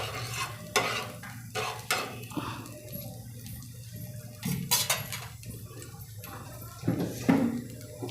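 Ghee heats in a pan for spicy veg toast, giving a soft, fairly faint sizzle under intermittent spoon scraping and stirring clinks, with no talking.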